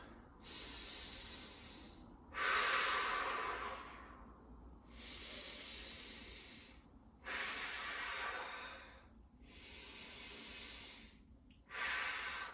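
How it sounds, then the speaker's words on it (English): Deep, slow breaths taken while holding a forearm plank in yoga, three long airy inhale-exhale cycles, close and clear with no talking. "we'll take 3 deep breaths starting now"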